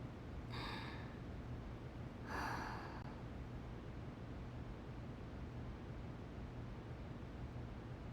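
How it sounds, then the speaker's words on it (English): Two soft breaths, sharp and airy, drawn in about two seconds apart inside the video game Persona 5 Royal, faint over a steady low hiss and hum with no talking. "I heard breathing."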